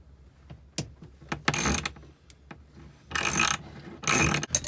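Ratchet wrench loosening a nut on a stud while installing a dock, giving sparse clicks that build into two fast ratcheting bursts near the end, close and without speech.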